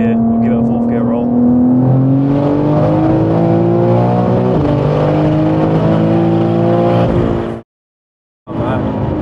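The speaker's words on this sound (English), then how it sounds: "We'll give it a fourth gear roll." A 1300hp BMW M3 street car pulls hard in fourth gear, its engine note climbing steadily and loudly for about seven seconds before cutting off abruptly, then resuming briefly.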